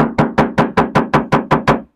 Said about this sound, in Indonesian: dan di bagian fender ini bunyinya terasa lebih cempreng ya